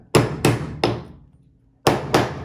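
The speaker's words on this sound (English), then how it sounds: "Now just give it a little tap." Light hammer taps seat an oil-impregnated bushing in an RC car differential, sounding as five crisp, close knocks: three in quick succession, a pause, then two more.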